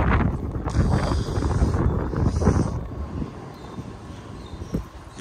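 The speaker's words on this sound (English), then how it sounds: "Listen how windy it is." Gusty wind buffets the microphone in Washington DC, a continuous roar with low rumbling that swells and eases, with no voices.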